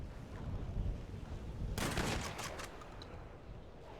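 A single sharp rifle volley cracks out midway as part of a funeral salute in a roleplay game, a broad burst that rings briefly before fading into quiet background.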